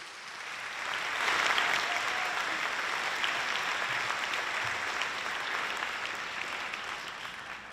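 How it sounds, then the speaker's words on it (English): A school concert audience gives sustained, even applause for all-state band students at a Heritage High School spring band concert, the clapping swelling after a second and holding steady without talk. "Please give a round of applause to our all-staters."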